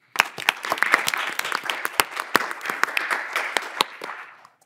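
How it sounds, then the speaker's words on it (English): An audience at a board of education meeting applauds honorees, a moderate crowd of distinct sharp claps that starts abruptly, carries on steadily, then tapers off near the end. "Round of applause again, please."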